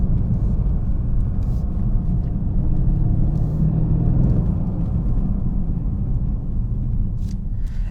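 A 2016 Mercedes CLS63 AMG with its V8 drives along as a steady, loud low rumble with engine drone and road noise, continuous and alone without voices.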